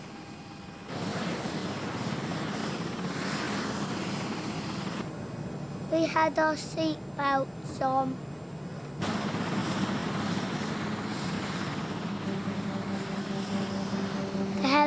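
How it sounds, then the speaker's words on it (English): A helicopter's engine and rotors roar as a steady broadband drone from inside the cabin. The noise breaks off while a voice speaks briefly, then returns. "The helicopter was very noisy."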